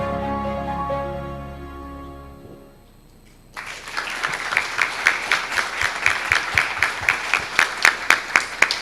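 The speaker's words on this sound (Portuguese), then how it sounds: "que essas palmas sejam para eles" An audience at a talk on nature conservation volunteering breaks into applause. A musical tone fades out first, then steady clapping builds and continues with a rhythmic, even beat.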